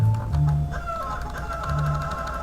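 Chicken clucks in Mokeko Castle, a video game, come as short repeated calls in a steady run over game music and background sound.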